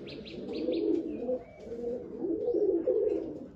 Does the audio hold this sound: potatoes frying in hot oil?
no